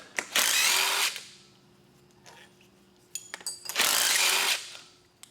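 Bolts holding the power steering pump to the head of a Ford 5.4L 3V engine are loosened with a ratchet: two sustained bursts of fast clicking near the start and end, with brief metallic taps between them.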